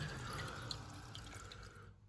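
Water running into a toilet cistern with the stop tap only slightly opened, a steady close trickle and hiss of filling that fades near the end, with no talking.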